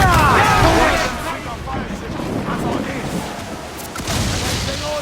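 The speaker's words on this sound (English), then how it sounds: "Enemy fire!" Cannon fire in a naval battle in Assassin's Creed 4: Black Flag, with a heavy boom at the start and then rumbling blasts and crackle under wind and sea noise. Shouted voices are mixed in.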